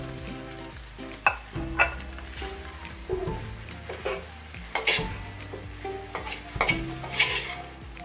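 Chopped leftover roti stirring and frying in a pan, with a steady sizzle under repeated scraping and clinks of a spatula against the metal, several sharper knocks scattered throughout.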